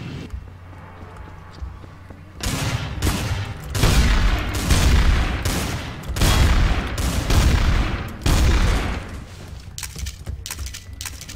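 Rapid gunfire from a video game fills the middle of the clip as dense, loud bursts of shots and booms, with a quieter stretch before and tapering shots after, and voices talking in the background.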